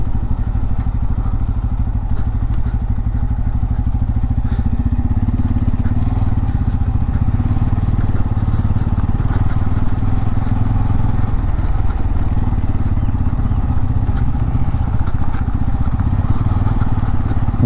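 A Bajaj Pulsar N250 motorcycle rides over rough off-road ground, its engine a steady close low rumble with occasional clatter and thumps from the terrain.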